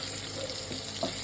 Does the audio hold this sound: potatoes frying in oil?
yes